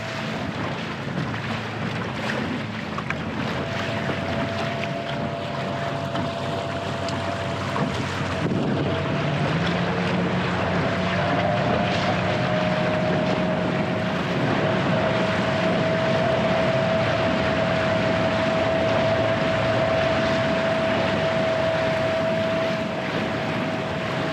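An electric motor drives a jon boat at speed across water, a steady whine rising slightly in pitch over a constant wash of water and wind noise, with no voices.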